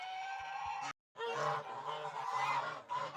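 Geese honking loudly and repeatedly at close range, with a brief pause before the nasal calls resume.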